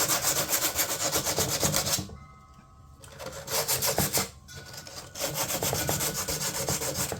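Hand sanding of a fiberglass door panel being prepared for upholstery, a steady close rasping scrub in long strokes that pauses briefly partway through before resuming, with no talk.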